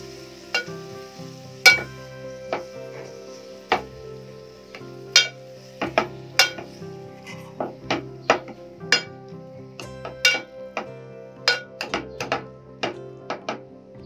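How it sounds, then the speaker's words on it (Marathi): Steamed vegetables are mashed in a pan for pav bhaji, with a masher striking the pan in repeated sharp, close knocks at an uneven rhythm over a low sizzle, and no talking. "भाज्या घातल्यानंतर ते छान मॅश करून घ्यायचे आहेत आपल्याला।"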